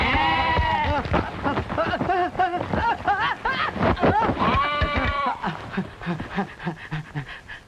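A goat bleats loudly and close by in a quick series of wavering, harmonic cries that thin out toward the end. The setting is an old classic film.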